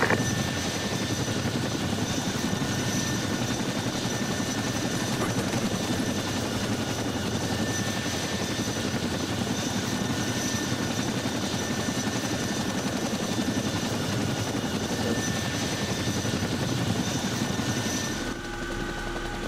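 Chinook helicopter flying overhead, a loud, steady rotor and engine roar that stays constant for nearly twenty seconds before easing slightly at the very end, with no talk over it.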